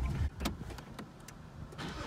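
A 2015 Nissan 370Z Nismo engine roars steadily up close with a brief surge near the start, a dense, loud mechanical drone heard alone with no voices.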